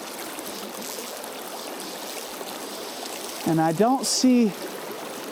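Mountain river water in winter flows in a steady broadband rush that fills the whole clip, with someone speaking briefly near the end over it.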